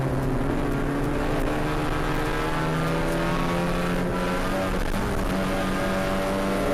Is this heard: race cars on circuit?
yes